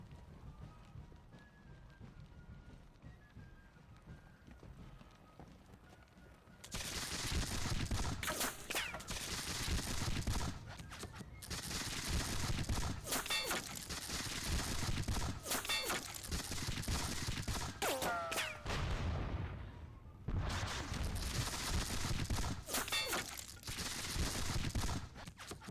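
Musket volleys crackle in a Seven Years War battle game at Zorndorf, dense ragged bursts of fire rolling loudly and almost continuously after a quieter opening, with brief lulls between the volleys.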